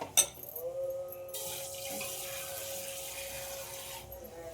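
Water runs steadily from a tap or pot into cooking mung dal, a soft continuous pour lasting a few seconds after a small clink, with no talking.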